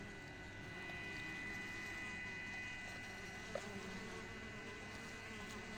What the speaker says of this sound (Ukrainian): Бджоли нервують, збираються.